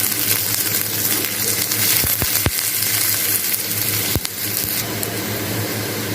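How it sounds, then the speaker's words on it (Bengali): Chilli frying with softened onion in a pan while being stirred, a steady close hiss broken by a few sharp clicks of the utensil against the pan. "এবার মরিচটা দিলাম। এটা ব্রাউন কালার আসা পর্যন্ত আমি এটা নাড়তে থাকবো।"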